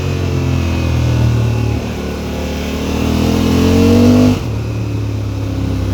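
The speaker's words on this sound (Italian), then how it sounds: "il sound di questo bicilindrico da 100 poco più cavalli, fasato a 270 gradi" A 2024 Honda Africa Twin Adventure Sports DCT's roughly 100-horsepower, 270-degree twin-cylinder engine pulls hard, its loud, steady drone climbing in pitch before an abrupt drop near the end as the gearbox shifts. No one speaks.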